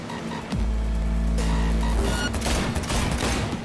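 Cyberpunk 2077 gunfire during a vehicle chase: a dense, loud fusillade of rapid shots rattling over a heavy low engine rumble, continuous throughout.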